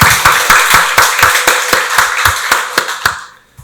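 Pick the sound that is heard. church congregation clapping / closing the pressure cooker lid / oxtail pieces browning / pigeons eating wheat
church congregation clapping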